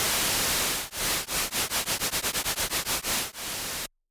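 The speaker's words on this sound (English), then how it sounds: "And then we've got our frequency shift" A hissing synth noise through a frequency shifter effect, pulsing in a rhythmic wobble that speeds up then slows down, like a tremolo beating, before stopping abruptly.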